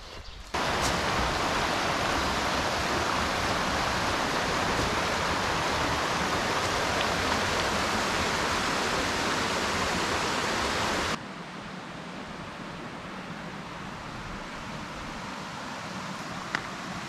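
A woodland creek along the Black Forest Trail on a backpacking route, heard as a steady broadband rush of flowing water, loud and continuous for about eleven seconds before dropping abruptly to a softer, more distant flow.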